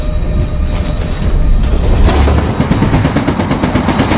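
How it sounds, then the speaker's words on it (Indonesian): A train rolls along the tracks, rumbling loudly with a quickening clatter of wheels as it draws nearer. "John Smith melihat batu bergetar tanda ada kereta yang mendekat"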